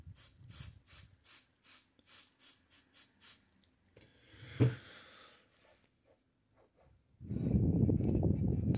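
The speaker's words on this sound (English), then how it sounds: "Well, let's rinse that off." A crinkle-painted part is rinsed with water: first a series of rhythmic rubbing strokes, a brief splash and some drips, then a loud, steady rush of running water.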